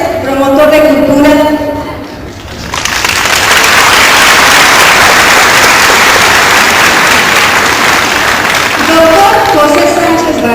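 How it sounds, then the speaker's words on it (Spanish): Loud, dense audience applause at a cultural event in honour of a culture promoter, bursting in after a spoken introduction and continuing steadily, with a voice returning near the end. "demos un gran aplauso al licenciado José Antonio Lizarraga Morales, promotor de cultura"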